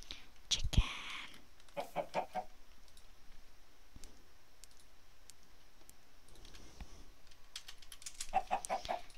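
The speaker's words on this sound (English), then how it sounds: "Chicken." Chickens in the video game Minecraft cluck in short, scattered bursts at the start, middle and end of the clip. Quiet background noise runs underneath, with faint whispery sounds in between.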